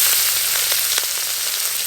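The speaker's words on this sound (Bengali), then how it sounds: "তেল খুব ভালো করে গরম হয়ে গেছে, চিংড়ি মাছ ভেজে নেব, হালকা করে ভাজবো" Small shrimp fry in hot mustard oil, giving a steady close-up sizzle with fine crackling pops throughout.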